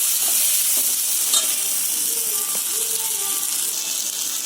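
Gundruk and dried fish frying in a wok over a lowered gas flame give a steady close sizzle, with a few light scrapes and clinks of stirring and no talking.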